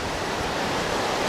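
Spring runoff water rushing through a narrow slot canyon, a dense steady roar of turbulent water close by, uninterrupted and without voices.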